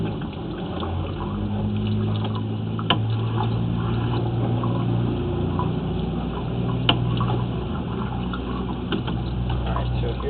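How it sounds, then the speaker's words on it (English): Water runs steadily down a cast iron sewer line during a camera inspection, a low continuous gushing rumble with faint clicks, while a person talks over it. "I do have some water running just to keep the camera clean."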